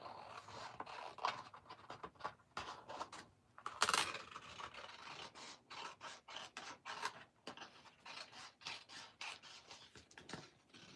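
Scissors snip through patterned stamping paper in a fussy cut around a printed stripe, making soft rasping and rubbing sounds in irregular bursts, close and fairly quiet, with no one speaking.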